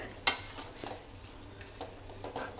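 Dried prawn thokku sizzles and is stirred in a pan, a steady close frying hiss with a sharp clink of the utensil near the start.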